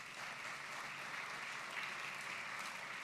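Steady applause from a conference audience fills the room, a dense continuous patter of many hands clapping at an even level from start to finish, with no voices rising above it.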